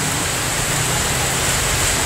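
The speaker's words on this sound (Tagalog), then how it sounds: "Biglang umulan ng malakas." Sudden heavy afternoon rain in Bangued pours down as a loud, dense, unbroken hiss close by.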